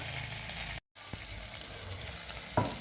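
Raw tomatoes frying in a pan, a steady close sizzle that cuts out briefly, then returns as ground poppy seed paste is added, with a couple of soft knocks of the utensil.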